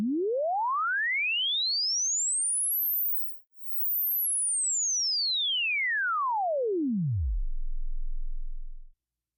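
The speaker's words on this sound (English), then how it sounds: "Here's an example of a sine wave sweeping from 20 Hz to 20 kilohertz." A pure sine wave glides smoothly upward from a deep 20 Hz hum to a piercing 20 kHz whistle, breaks briefly, then sweeps back down to a low rumble.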